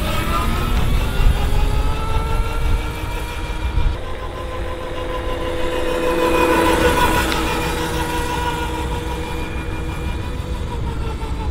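Cheap quad bike engine held at full throttle, a steady loud droning roar with rising harmonic whine, continuous and close throughout with no talking.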